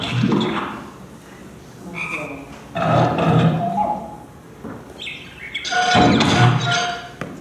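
A bug-ball shooting video game plays cartoonish farting and croaking noises, several loud wet bursts of varying length spaced a second or so apart, close and clear.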